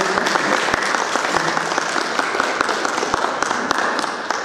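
An audience at a tombstone unveiling in a church setting claps loudly and steadily, a dense crowd of hands with sharp individual claps standing out, sustained for several seconds without speech.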